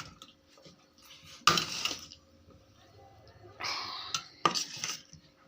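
Dal and cabbage are served from cooking pots, with a few loud scraping clanks of a spoon against metal and softer stirring sounds between them.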